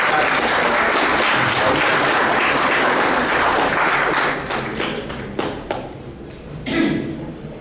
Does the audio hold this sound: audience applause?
yes